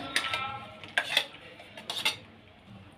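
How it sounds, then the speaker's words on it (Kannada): Sprouted moth beans go into a bowl for a salad, making several sharp clinks and taps of a spoon against the dish, spaced irregularly and close by, with quiet pauses between. "ಈಗ ಮೂತ್ ಬೀನ್ಸ್ನ ಒಂದು ಬೌಲ್ಗೆ ಹಾಕ್ಕೊಳ್ಳೋಣ"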